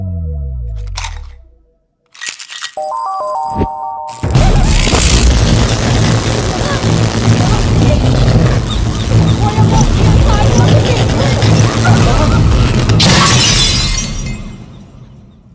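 Electric lights burst with a sharp crack, then glass shatters and crunches loudly for about ten seconds in a comedy scene, after tones and a brief silence at the start.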